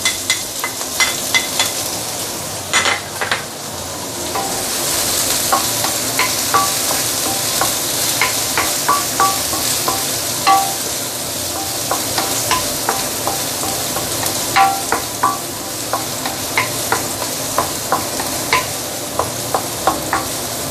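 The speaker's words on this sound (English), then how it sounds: "So we are going to saute the garlic, shallot, and also the French bean" Garlic, shallot and French beans sauté in hot oil in a pan, a steady close sizzle broken by repeated scraping clinks of a spatula stirring throughout, with no voices.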